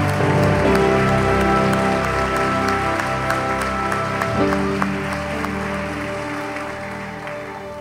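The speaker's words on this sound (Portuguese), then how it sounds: "Podemos aplaudir Jesus?" Sustained applause from a church congregation during a Sunday service, a steady clapping texture blended with loud held musical tones underneath, gradually easing in level.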